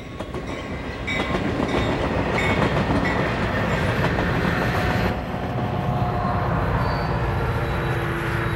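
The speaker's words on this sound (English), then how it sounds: "And the freight is followed by the eastbound Ann Rutledge running in push-pull service." The eastbound Ann Rutledge, a passenger train in push-pull service, rolls past on the tracks with a loud, steady rumble and rhythmic clickety-clack of wheels over rail joints, easing slightly toward the end.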